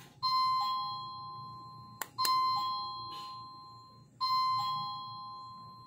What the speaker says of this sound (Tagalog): If you have a parcel delivery, please ring the bell.